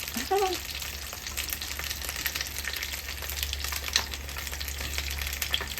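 Sausages fry in a pan of hot oil with a dense, continuous close sizzle and crackle, and a brief voice sounds near the start.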